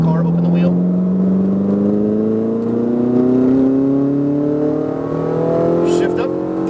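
Race car engine revs climbing steadily in pitch as it accelerates, loud and close, with a brief break in the rising whine around a gear change; a voice talks over the engine.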